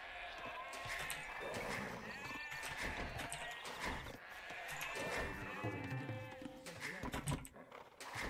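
Sheep bleating in a real-time strategy video game, several overlapping bleats in quick succession over a busy game soundscape.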